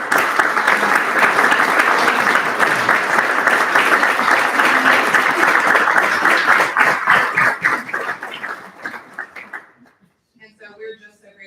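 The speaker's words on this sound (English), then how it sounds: "give a round of applause for them" Audience at a Jewish home and rehab center's annual meeting applauds its legacy donors: sustained, loud, dense clapping from a large crowd that thins and fades near the end, with a few scattered claps and voices after.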